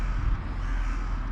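Birds feeding in a field beside heavy traffic, with crow-like caws over a loud, constant roar of passing vehicles.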